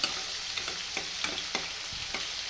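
Onion, garlic and ginger paste frying in a pan with whole garam masala, giving a steady close sizzle with soft scraping stirs at regular intervals.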